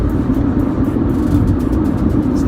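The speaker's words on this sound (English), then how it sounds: "We're back in the car, back on the 710 freeway" Steady road rumble from inside a car cruising on the 710 freeway, a continuous loud low engine and tyre drone with wind hiss, no voices over it.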